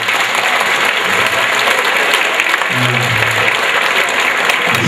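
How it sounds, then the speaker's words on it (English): Loud, steady applause from an audience for a high school choir, a dense continuous roar of many hands clapping close by, with a brief low voice murmuring underneath. "So give them a round of applause today."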